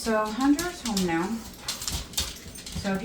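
A dog indoors in a home kitchen whines and cries in rising and falling pitches. The whimpers are high and repeated, and come in close, uneven bursts.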